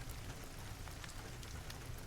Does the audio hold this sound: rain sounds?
yes